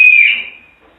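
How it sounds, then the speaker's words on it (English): A tour guide gives one loud, shrill whistle blow that starts sharply and fades out within about half a second. "If you hear me blow the whistle once like this"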